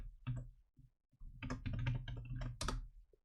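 Computer keyboard typed at during a Unity game development live stream: quiet, close key clicks in short irregular bursts with brief pauses, and no speech.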